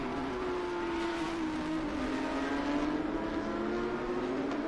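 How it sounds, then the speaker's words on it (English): A Porsche 991 race car at Circuit of The Americas roars at steady high revs with a slowly shifting engine pitch, constant and fairly close, with no talk over it. "So Liam Gray doing very well in that 991"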